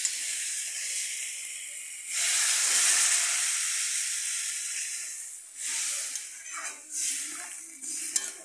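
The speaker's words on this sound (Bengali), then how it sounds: "এবার আমি বন্ধুরা জল দিয়ে দিচ্ছি" Water is poured into a hot pan of cauliflower and potato curry, setting off a loud rush of hiss and steam that swells and then fades into softer bursts of sizzling and stirring.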